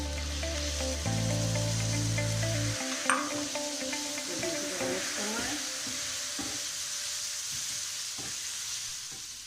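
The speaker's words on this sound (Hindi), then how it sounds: "चिकन हमारा फ्राई हो रहा है और इसमें हम 2 चम्मच सोया सॉस" Chicken frying in a pan with soy sauce: a steady sizzle with scattered stirring clicks and a sharp clatter, following a brief low electronic tone at the start.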